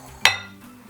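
A single bright clink of a utensil striking a big mixing bowl rings out and fades quickly, with quiet room tone around it.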